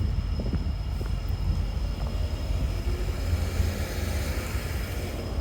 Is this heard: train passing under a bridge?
yes